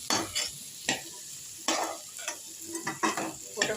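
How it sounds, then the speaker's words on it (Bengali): Whole fried pointed gourds are lifted from a hot pan with a fork, making soft scraping and clinking touches over a faint sizzle, a few short bursts spaced irregularly, close and quiet. "পটলগুলোকে একটু কাঁটা চামচ দিয়ে তুলছি"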